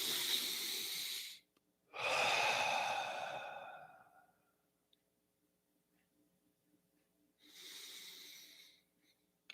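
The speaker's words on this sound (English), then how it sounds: "So let's take a couple more breaths." Slow, deep breaths taken during a guided meditation: a long inhale and exhale, a pause of near silence, then another breath, close and soft with no talking.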